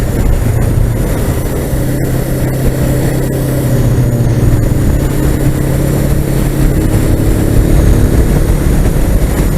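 A Suzuki GS500F motorcycle engine drones steadily and loudly throughout a ride, its low rumble mixed with heavy wind buffeting at close range.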